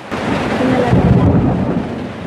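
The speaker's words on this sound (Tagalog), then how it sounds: "Lakas-lakas ang kulog, ano?" Loud, rolling thunder rumbles close overhead during a heavy rainstorm in the Philippines, deep and sustained over steady rain, with a brief voice.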